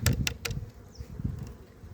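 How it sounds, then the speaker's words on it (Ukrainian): Wasps buzz around a bottle trap baited with jam and fermented preserves, a faint, steady insect drone with a few brief louder bursts near the start. "Отаку ну, гадость люблять ці оси"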